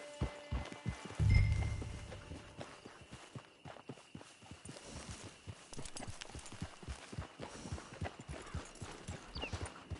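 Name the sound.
horse walking, hooves clip-clopping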